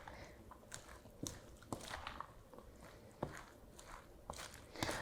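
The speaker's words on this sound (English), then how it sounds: "when you stir it, it kind of has that crunch sound" Crispy coated chicken being stirred in a bowl for Asian wraps gives off faint, irregular crunching and crackling clicks, quiet and close, with no talk.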